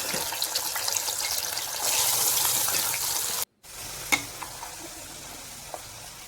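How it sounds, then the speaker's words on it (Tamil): Potato pieces deep fry in hot oil, a dense steady hiss that swells louder partway, drops out for a moment, then continues with a few sharp clinks of a ladle nearby, with no speech. "அந்த உருளைக்கிழங்கை எடுத்து பொரிச்சு எடுத்துக்கலாம்"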